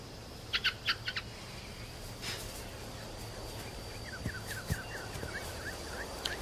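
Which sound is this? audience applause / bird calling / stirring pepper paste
bird calling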